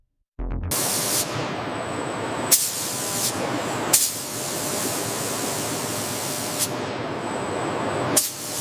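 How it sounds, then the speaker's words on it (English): A steady, loud hiss of a robotic spray system applying clear coat to a maglev train exterior runs continuously, broken by a few sharp clicks as the spray cycles. "Robotic spray systems apply the final protective clear coat."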